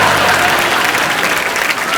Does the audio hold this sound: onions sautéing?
no